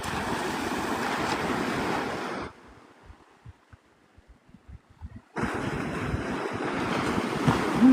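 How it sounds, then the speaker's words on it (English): Surf at Navarre Beach, Florida, a loud, broad wash of waves breaking continuously with wind noise across the microphone, dropping out briefly in the middle before the roar returns. "The minute I hear the waves as I walk across the little bridge thingy"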